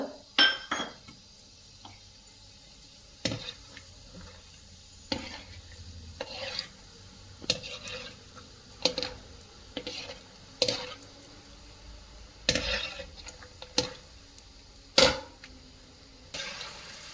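Peanuts dry-roasting in a pan, with a spatula scraping and knocking against the metal in irregular bursts of clatter and rustling over a quiet, faint background.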